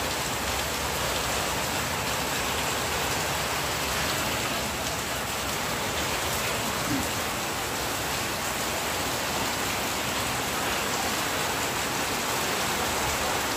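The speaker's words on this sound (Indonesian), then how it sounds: "Ini hujan, kan?" Steady rain pours down evenly on a car's windshield, a dense hiss of drops on a surface throughout with no voices.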